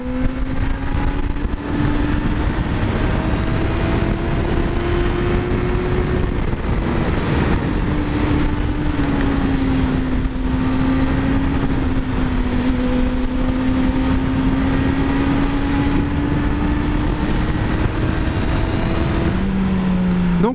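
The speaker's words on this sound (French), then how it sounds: "Le son du pot d'origine est juste incroyable." A Honda CB1000R Black Edition with its stock exhaust accelerates hard, a loud, continuous engine roar rising and falling in pitch through the gears, heard alone.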